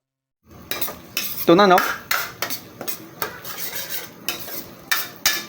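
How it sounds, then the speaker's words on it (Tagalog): Metal utensil scraping and clinking against a pan while a fish pastil mixture is stirred, a rhythmic run of close, sharp scrapes with a brief spoken remark partway through. "Mix natin."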